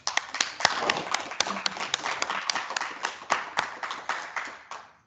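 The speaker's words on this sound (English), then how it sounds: "we'll give you a round of applause" A small group of audience members claps for several seconds, uneven individual claps fading toward the end, close by.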